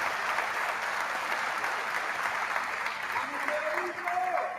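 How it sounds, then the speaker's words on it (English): Sustained applause from an audience in the Argentine Congress during Javier Milei's speech, a steady, moderately distant wash of clapping with a voice faintly audible beneath it near the end. "but they're clapping"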